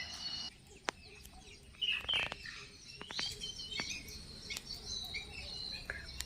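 Small birds such as sparrows chirp and twitter in short bursts around an outdoor temple courtyard, with scattered sharp calls over a steady insect-like background hum and no talking.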